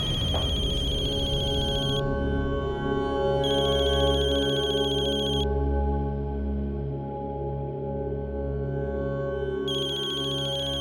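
A telephone ringtone repeats in regular bursts with short gaps between them, loud and close, a bright electronic tone layered over a low sustained background with no voices.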